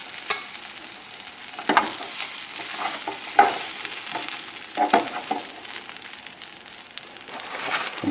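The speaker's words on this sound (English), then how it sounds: "Now we're going to throw all of the spinach in there." Spinach is stirred and fried in a dry pan, giving a continuous close sizzle with intermittent scraping and rustling strokes of the spatula.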